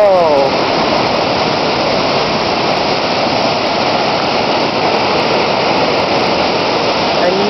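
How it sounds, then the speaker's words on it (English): Buttermilk Falls in East Stroudsburg, Pennsylvania, pours with a constant, loud, close rushing roar of falling water that stays steady throughout. "Another little, I would say big waterfall in the neighborhood."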